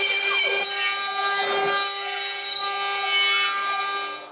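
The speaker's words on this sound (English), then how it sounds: "I bolt this to the table and drill the remaining 3 holes." A steady, high-pitched CNC machine whine with rising and falling pitch sweeps as it drills holes in a workpiece bolted to the table, running loud and continuous throughout.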